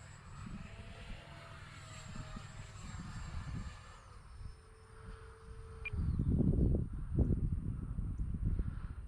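A Marlin 2.0 RC airplane drones faintly overhead with its propeller motor, then the sound swells as it comes in to land with flaps down, accompanied by a rougher burst of noise near the ground.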